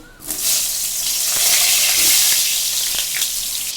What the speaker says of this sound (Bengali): এটা আস্তে আস্তে করে ভাজা হবে